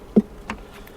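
Honey bees in an open hive, a few brief close buzzes of individual bees passing near over a quiet hum.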